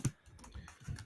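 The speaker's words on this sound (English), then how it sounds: "he's typing like he's got essays due at 11:59" Computer keyboard typing by a podcast co-host, a few quick faint key clicks with low thumps, quiet and close with no talk over it.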